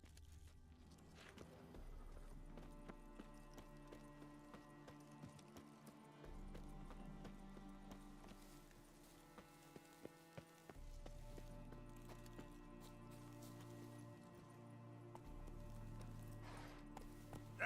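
Steady clip-clop of the horse Roach's hooves galloping in The Witcher 3, a continuous rhythmic hoofbeat under game music and ambience.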